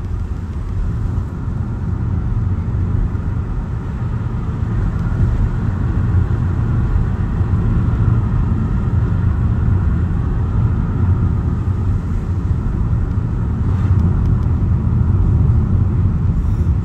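A car pulls away from a roundabout on a driving test route, a steady low engine and road rumble that holds level and fairly loud throughout, with no speech.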